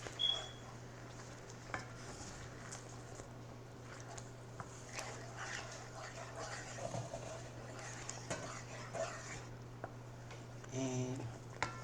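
Homemade sloppy joe mixture sizzles and pops in a pan while being stirred, soft scraping and small crackles scattered over a low steady hum, quiet and close with no talking.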